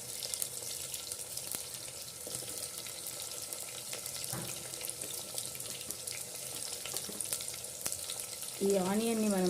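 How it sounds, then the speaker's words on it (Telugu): Chopped onions fry in three to four spoons of oil in a pressure cooker, giving a steady, close hissing sizzle with a few stirring scrapes, and a brief voice enters near the end. "అందులో మనము ముందుగా కట్ చేసి పెట్టుకున్న ఆనియన్స్ అయితే ఫ్రై చేసుకోవాలి."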